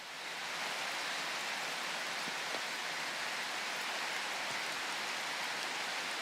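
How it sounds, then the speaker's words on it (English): Steady rain falls throughout in a game scene, a soft, even hiss of drops with a few faint taps, low in level and uninterrupted, without voices. "The rain doesn't look too bad."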